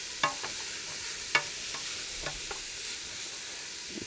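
Onions sizzle and simmer in a pan, a soft continuous frying hiss with a few sharp clicks of stirring against the pan.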